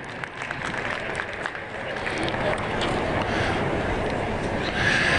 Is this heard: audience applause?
yes